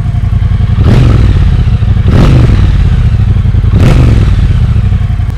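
A Triumph Bobber 1200 parallel-twin exhaust booms loudly up close, a heavy low rumble with three sharp throttle blips rising over the steady idle.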